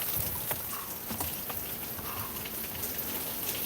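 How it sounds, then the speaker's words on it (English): Heavy rain pours outside in a steady, dense hiss of drops with scattered sharper patters, continuous and fairly close throughout. "It's raining too hard."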